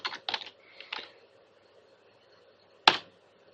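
A computer keyboard clicks with a few quick keystrokes at the start, then goes quiet before a single sharp tap near the end, close and fairly faint.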